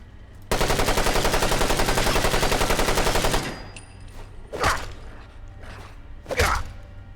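Sustained rapid automatic gunfire in the video game Fallout London, a loud continuous burst lasting about three seconds, followed by two separate sharp whooshing impacts.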